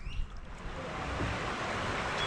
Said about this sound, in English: No, that'll just be another rapid.